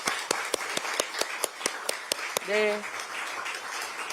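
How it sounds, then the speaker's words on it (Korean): Audience clapping at a political party gathering: rhythmic, evenly spaced claps ringing out loudly, briefly interrupted by a short spoken word before the claps continue. "박수 한번 쳐주시기 바랍니다."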